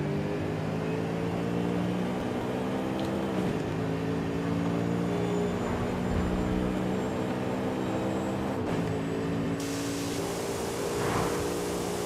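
A naturally aspirated Porsche flat-six engine in the racing game Forza Horizon 5 hums steadily at moderate volume, a muted engine drone with little exhaust note that holds fairly constant throughout.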